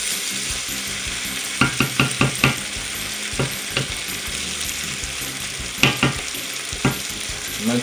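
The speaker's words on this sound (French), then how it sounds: "Maintenant qu'on a bien mélangé" Chicken frying in a pot over high heat, stirred with a utensil: steady loud sizzle with a series of sharp scraping clacks in bursts, close and without speech.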